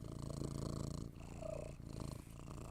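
A house cat purring close and soft, a steady low rhythmic rumble with faint background tones, no talking.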